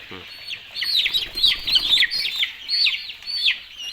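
A chicken being injected with fowl pox vaccine gives a run of sharp, high chirping clucks, repeated in quick bursts at close range over faint background noise.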